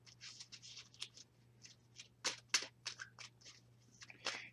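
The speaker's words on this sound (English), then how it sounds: "Give it a good shuffle." A deck of cards being shuffled during a Kingdom Death Monster board game session, heard as close, crisp bursts of riffling and flicking in irregular clusters over a low steady hum.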